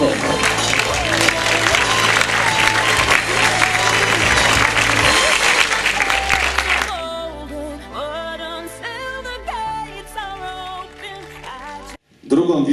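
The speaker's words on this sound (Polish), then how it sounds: "Wielkie brawa!" An audience at the Miss Ziemi Otwockiej 2016 beauty pageant claps loudly and steadily for about seven seconds. The applause then gives way to music.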